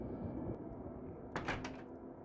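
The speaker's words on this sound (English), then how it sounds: "All right, we'll open that door." Door opening in the horror video game Darkwood, a short creaking, scraping burst near the end over a quiet low ambient drone, fairly close and moderately loud.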